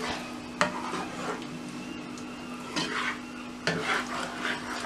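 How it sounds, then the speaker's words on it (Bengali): Masala and marinated mutton leg cook in a pot as a spoon stirs them, with several loud scraping clanks against the metal over a soft, continuous sizzle and no voices. "অপেক্ষা করছি এই মশলাটা কষানো হয়ে যাওয়া পর্যন্ত"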